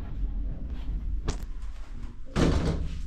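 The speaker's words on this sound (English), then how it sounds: "Door closing." A hydraulic Pickerings lift door at a WHSmith store in Bournemouth closing, heard as a low steady hum broken by a sharp thud and then a louder, rumbling slam as the door shuts.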